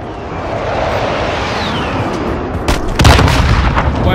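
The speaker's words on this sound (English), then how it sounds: "Stun bomb out." A stun grenade goes off in the Warzone shooter game, a sharp burst of bangs near the end after a stretch of rumbling game ambience, loud and close, with no talk.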